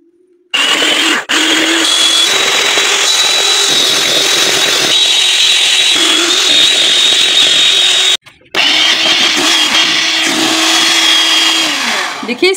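An electric beater whips two cups of very cold whipping cream, a loud, steady, high motor whine that holds almost throughout. It cuts out briefly once partway through, then resumes.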